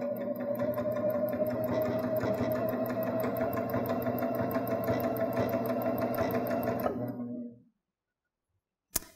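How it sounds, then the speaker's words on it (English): A Baby Lock Jazz II sewing machine stitches a pressed fabric hem with a straight stitch, a steady fast whirring hum that runs continuously, then winds down and stops, followed by a single small click. "We're going to lower the presser foot. And I'm going to start stitching."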